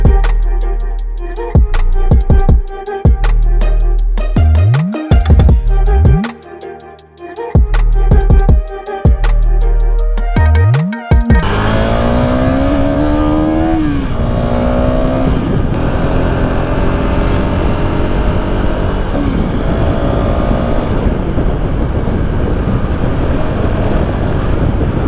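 A new KTM Duke 250 BS4 motorcycle revs hard through several quick gear shifts, then settles into a sustained run with its engine note climbing steadily under heavy wind rush. The sound is loud and close throughout.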